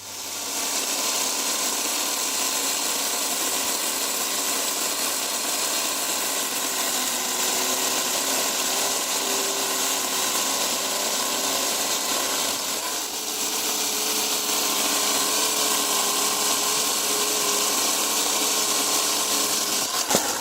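An AL-KO CS 1825 cordless battery chainsaw cuts continuously, giving a steady, loud electric whine with a slight dip in the middle and no pauses or speech.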